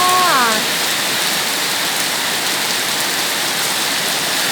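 Rain pours down outdoors in a loud, steady, broadband wash that continues without a break, with a short whistling tone at the start and no talking.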